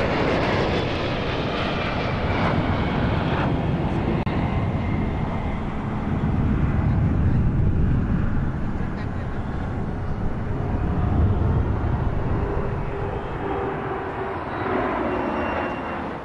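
Sukhoi Su-30 military jets roar overhead in a Republic Day parade flypast, a loud, continuous, broadband engine rumble that swells and stays steady throughout, with no speech.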